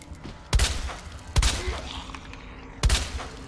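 Gunfire in the Resident Evil 2 Remake video game: three sharp, loud shots spaced about a second apart, each with a short ringing tail, with no talk.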